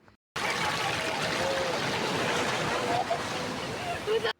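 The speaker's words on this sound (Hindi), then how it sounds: "और इन लहरों में इतना सुकून मिल रहा था कि बस" Sea waves wash steadily onto the shore at a seaside viewpoint in fine weather, a continuous broadband surf roar that stays loud and unbroken throughout, with faint voices and background sounds mixed in.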